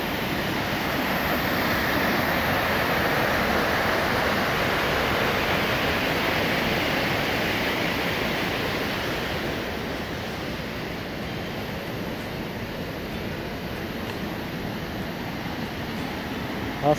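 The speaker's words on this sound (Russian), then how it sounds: "Дошли мы до водопада" The Snezhnoye Ruslo mountain waterfall near Rosa Khutor gives a steady, broad roar of falling water, loud and constant for the whole stretch, with no talking.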